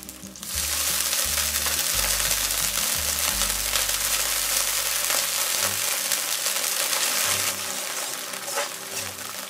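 A hot pan sizzles loudly as cheongju rice wine is poured in while making abalone sauce, a dense, steady hiss of frying close up that runs for several seconds, with a low rumble underneath that fades out toward the end.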